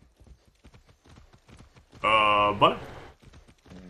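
Horse hooves clip-clop steadily in the video game Far Cry 6, a light rhythmic patter under game sounds, with a loud tonal burst in the middle and a brief spoken word.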